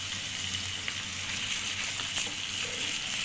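Chicken masala fries in a pan as tomato sauce is stirred into the spices, a soft steady sizzle with faint scraping stirs, close and quiet with no talking.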